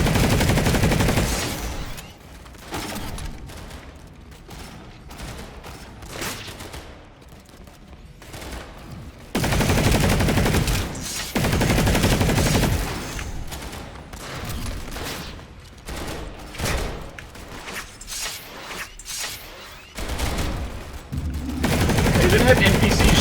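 NPC soldiers exchange gunfire in the Planetside 2 new player tutorial, with bursts of automatic rifle fire and fusillades swelling and dropping away in uneven waves, with quieter gaps and some voices between volleys.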